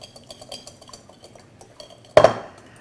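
A metal whisk clicks rapidly against a bowl while mixing vinaigrette dressing, a light rhythmic clatter that ends in one louder clanking knock near the end, close up and without talk.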